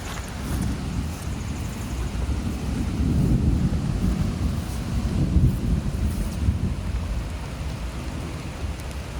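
Heavy storm rain pours steadily over a small farm with blackberry bushes and a drainage ditch, a dense continuous hiss mixed with low rumbling wind gusts that swell in the middle and ease toward the end.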